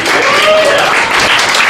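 Comedy club audience at a café comedy night in Richmond, Virginia, clapping and cheering in a loud sustained burst, close and dense, with a voice or two rising above the crowd.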